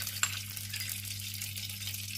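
About two tablespoons of ghee warming in a nonstick pan for almond halwa, a soft, low sizzle with faint crackle, one small clink near the start, over a steady background hum.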